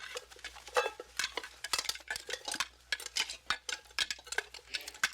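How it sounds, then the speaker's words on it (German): Pots and pans clattering in a kitchen, a rapid irregular series of sharp metallic knocks and clinks, close and moderately loud, with no talk. "Die Töpfe und Pfannen in der Küche klappern."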